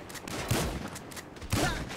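Close-range shotgun blasts in the game GTA 5 during a gang shootout, two heavy booming shots about a second apart over a continuous rumbling background, no speech.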